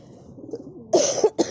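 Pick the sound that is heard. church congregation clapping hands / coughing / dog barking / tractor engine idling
coughing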